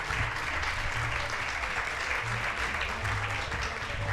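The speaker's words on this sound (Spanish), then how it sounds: "ya os pido un aplauso antes de empezar para Marcelino" Audience at a book presentation claps in a steady, dense round of applause lasting several seconds, moderately quiet and heard from within the room with no speech over it.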